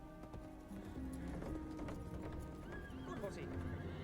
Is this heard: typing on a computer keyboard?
no